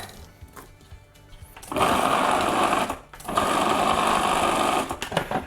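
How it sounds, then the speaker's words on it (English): A food processor chops a peeled, halved onion in two loud whirring bursts, the first lasting over a second and the second slightly longer, separated by a short pause and followed by a clunk. "pop it in the processor"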